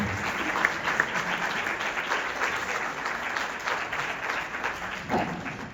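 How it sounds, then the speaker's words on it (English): A concert audience claps at a high school band winter concert, producing a full, sustained round of applause with individual sharp claps audible throughout and a slight swell near the end. "So could you please give your audience members a round of applause from the stage?"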